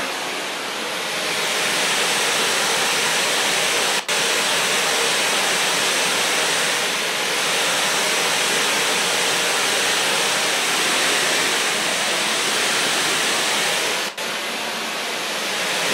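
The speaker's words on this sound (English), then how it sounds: "I'm going to put two different pink noise sources. So this is a different pink noise generator going to each side." Two separate pink noise generators, one feeding each side, give a steady, loud broadband hiss that runs unbroken for the whole stretch, with only two brief dips along the way.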